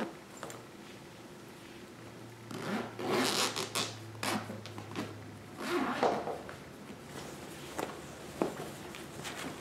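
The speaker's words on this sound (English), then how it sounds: "Let's unzip it and find out." A zipper on a sewn fabric tote bag is pulled open in a few rasping strokes, close and quiet, mixed with fabric rubbing and handling noises.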